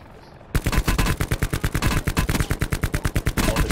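Rapid automatic gunfire in a video game bursts in after a brief quiet moment, a loud, close, steady stream of shots at roughly five per second that keeps going to the end.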